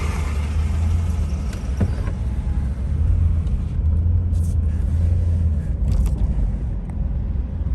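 A car creeps forward slowly in a long queue of vehicles waiting for a ferry in Yakutsk, a steady low engine rumble heard from inside that continues throughout, with faint clicks and knocks above it.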